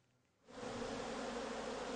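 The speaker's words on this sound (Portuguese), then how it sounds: "Uma colmeia bem formada pode abrigar mais de 60 mil abelhas." Dense swarm of honey bees buzzing at a green propolis hive in Bambuí, Minas Gerais, swelling in after half a second into a loud, steady, close drone that continues alone.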